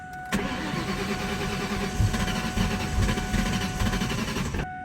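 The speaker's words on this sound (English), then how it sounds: "Good old E85 cold starts." A Ford SVT Cobra running on E85 with straight-piped exhaust and an off-road X-pipe fires up from cold, then settles into a loud, steady, rumbling high idle close to the microphone.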